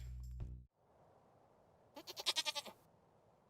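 A goat bleats in the farming game Stardew Valley, a quick run of about six wavering, pulsing cries that follow a brief snippet of game music over a quiet background.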